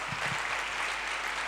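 Audience at a youth motivational gathering in Rajasthan clapping as a steady, dense wash of applause throughout, with a few low thumps near the start.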